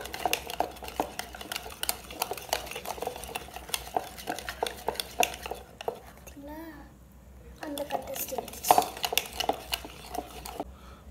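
Cake batter for an eggless tea cake being beaten in a bowl, a rapid run of close clinking and scraping strokes that pauses briefly midway, then resumes with sharper knocks against the bowl.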